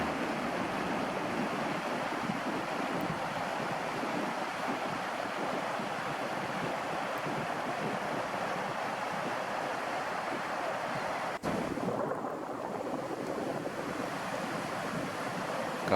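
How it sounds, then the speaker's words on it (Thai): Sea water and waves roll in during a storm, a continuous broad wash of surf with wind buffeting the microphone, steady and fairly loud, with a brief knock partway through and no voices. "ฟังเสียงน้ำก็แล้วกันเนาะ"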